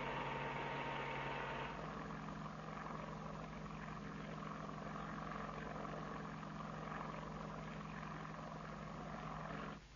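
Helicopter flying with a sling load, a steady droning engine and rotor hum at moderate distance that continues unbroken throughout.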